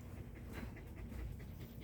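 Dog panting softly and rapidly, a quiet rhythmic breathy huffing repeated steadily at close range.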